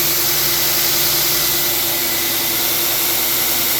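A 2 HP DC servo drive motor running at full RPM, giving a steady, loud, even whirring hum with airy noise that holds constant throughout, with no speech.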